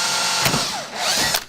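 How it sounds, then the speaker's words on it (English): A power drill runs steadily while boring into material during exhibit construction work at Woodland Park Zoo, a dense whirring grind with brief bursts of higher-pitched bite, close and loud throughout with no talking. "Other times it means drilling"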